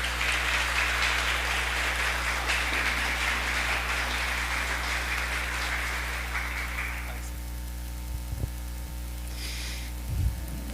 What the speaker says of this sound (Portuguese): Então vamos acolher o Frei Danilo com uma salva de palmas.